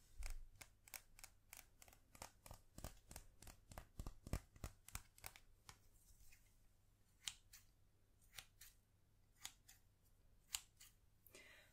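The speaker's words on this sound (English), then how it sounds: "Just some plain metal, well-performing scissors." Metal scissors snip and click in quick, crisp bursts, a rapid run of cuts followed by slower, spaced snips, close and quiet with no talking.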